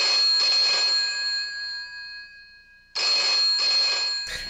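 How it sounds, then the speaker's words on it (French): An old-style telephone bell from a 1981 film rings in two loud bursts separated by a pause, a harsh metallic trill with no voices. "Elles étaient vraiment dégueulasses, les sonneries téléphoniques de l'époque."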